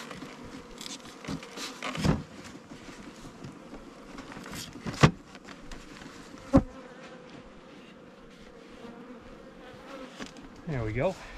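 Bees buzz steadily around a bee sauna hive on move-in day, a low droning hum with scattered clicks and knocks of hive parts being handled, and a brief louder buzz near the end.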